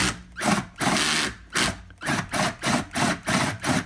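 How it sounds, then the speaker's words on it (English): A drill bores into the wood of a Martin D-35 acoustic guitar in short repeated bursts, whining up and stopping about eight times in quick succession, close and fairly loud. "I'm checking the straightness of the drill."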